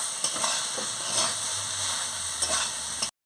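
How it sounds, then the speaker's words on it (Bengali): Ivy gourd (kundri) chorchori vegetable curry is stirred in a frying pan, a steady close sizzle with soft scraping strokes and no talk, cutting off abruptly. "দিয়ে ভালো করে নাড়িয়ে নিচ্ছি।"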